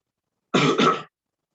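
A single short, raspy throat clearing demonstrated during a chair yoga session on Ujjayi breathing, close and distinct, heard alone against silence.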